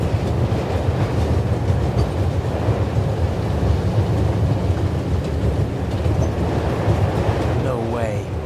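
Train rolling along in The Raven Remastered, a heavy continuous low rumble with rhythmic clattering of the railroad cars, loud and close throughout, with a faint voice briefly near the end.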